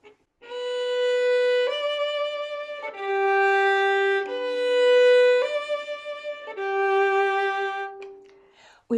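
Sustained bowed violin notes in a slow line of several long tones, some swelling louder than others so the notes sound uneven in weight.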